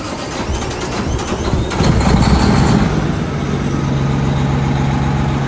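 A 389 truck engine cranks and fires, then settles into a loud, steady low-pitched idle close by, with no speech over it.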